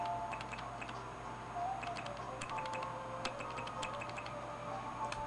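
Keyboard click feature on an old laptop, a run of small sharp ticks from keys being pressed at an irregular pace, quiet and close over a low steady hum, no talk.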